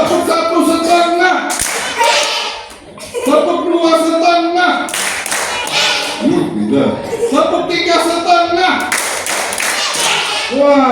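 Children at an Islamic children's Ramadan program clap in short rhythmic patterns, loud and close, with bursts of claps separated by pauses while young voices chant and talk along.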